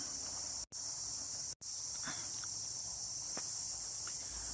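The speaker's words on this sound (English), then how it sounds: "it's a lot of bugs here" Insects, likely crickets, chirp outdoors in a dense, continuous high-pitched drone, loud and steady throughout with two brief dropouts, plus faint scattered rustles beneath.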